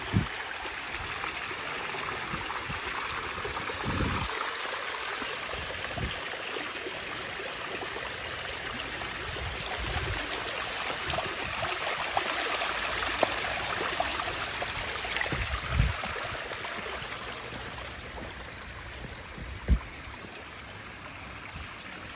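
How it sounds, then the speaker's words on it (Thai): Steady broadband rush of water flowing at Khamhom waterfall stream, continuous and fairly loud throughout with no voices, a few faint low knocks and splashes underneath. "น้ำตกคำหอม"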